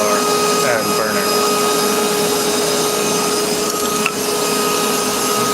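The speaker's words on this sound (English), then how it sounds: "the original burner that came with the forge, and it works" The original gas burner of a forge, heating steel to forge a farrier's rasp into an axe, gives a loud, steady, unbroken roar and hiss that holds level throughout.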